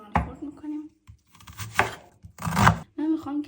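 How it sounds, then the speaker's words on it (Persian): A knife chops onion on a board in several uneven bursts of cutting strokes with pauses between, close by, while sheep's liver is prepared for frying in sheep fat. "پیاز رو خرد میکنیم."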